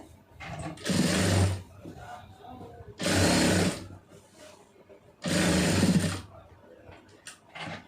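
A sewing machine stitches fabric in three loud, even bursts of rapid whirring, each about a second long, separated by quieter pauses as the cloth is turned; soft handling noise fills the gaps.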